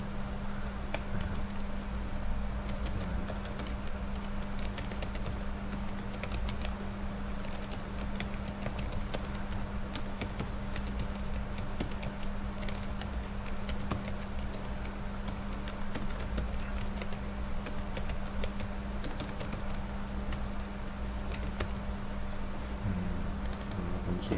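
Typing on a computer keyboard, soft irregular key clicks tapping away continuously under a faint steady electrical hum, quiet and close.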